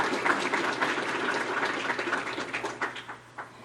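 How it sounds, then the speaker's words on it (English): An audience at a graduate student symposium claps together for several seconds. The applause is dense and steady, then thins out toward the end. "Let's give ourselves another round of applause,"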